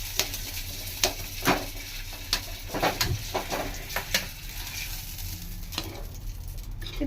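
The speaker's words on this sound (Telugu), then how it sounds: "ఇది స్టవ్ వెలిగించి కొంచెం ఈ తాలింపు దీన్ని పట్టేలాగా కొంచెం గ్రేవీగా ఉడికించుకుందాం" Black pepper chicken gravy simmers in a pan on a stove with a steady, soft sizzle, broken by scattered sharp clicks as it is stirred.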